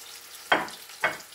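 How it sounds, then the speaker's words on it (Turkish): Vegetables such as zucchini and peppers fry in shallow oil with a steady low sizzle, broken by two sharp stirring hisses. "Kızarıyor, kızarıyor, kızardı."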